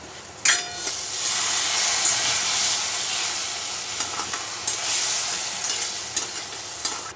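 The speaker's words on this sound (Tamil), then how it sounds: "இதை போட்டு நல்லா மிக்ஸ் பண்ணிடலாம்." Soya chunk manchurian is stirred in a hot pan, a continuous loud sizzle and hiss with occasional scraping strokes of the spoon against the pan.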